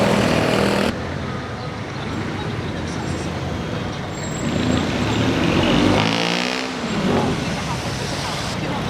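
Riding pillion on a Grab scooter through Manila traffic, a constant engine drone and road rumble fill the air, swelling louder around the middle before easing back into steady motor and street noise.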